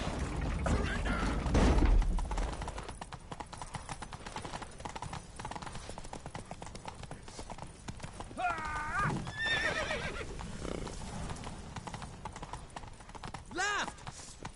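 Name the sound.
horse galloping, from video game The Witcher 3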